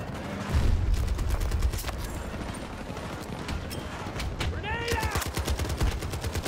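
An M60 machine gun fires in Battlefield 2042, pouring out long, rapid, evenly spaced bursts at close range with a brief shout partway through.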